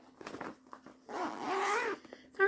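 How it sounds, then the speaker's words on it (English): A clothing zipper pulled open or closed during a cross-stitch sampler show-and-tell, a few short scratchy zips and rustles close up, with no talking. "Sorry for the zippers."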